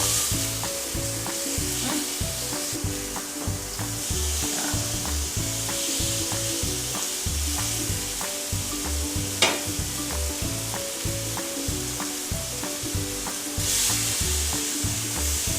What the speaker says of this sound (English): the pineapple slices. Let it cook for 2 minutes on each side.